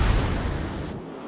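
Naval gun salvo from a warship in World of Warships, a loud deep broadband blast that rumbles and decays over about a second before cutting off.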